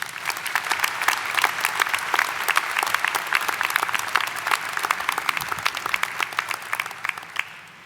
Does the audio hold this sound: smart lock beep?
no